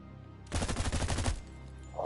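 An SMG in The Expanse Osiris Reborn fires one quick automatic burst of rapid, punchy shots lasting under a second, followed by quiet.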